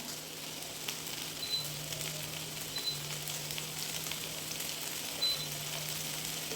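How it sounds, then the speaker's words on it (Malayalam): Capsicum and onion cubes sauté in coconut oil over a high flame, giving a steady, soft sizzle with faint occasional clicks and no voices. "ക്യാപ്സിക്കം സവാള ക്യൂബ്സായിട്ട് അരിഞ്ഞത് ഇട്ട് കൊടുക്കാം."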